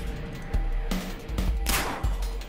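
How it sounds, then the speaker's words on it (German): Gunfire in the video game Dead State, a few sharp, loud shots spaced apart over a couple of seconds, standing alone with no talk. "2 Schüsse und dann ist auch seine Munition erschöpft."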